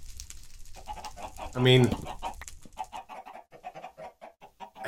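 Backyard chickens cluck near the mic, with one loud, sustained squawk partway through and scattered softer clucks after it, heard alongside someone talking briefly.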